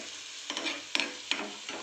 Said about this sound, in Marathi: कोथिंबीर, कांदा आपला चांगला परतला चालला.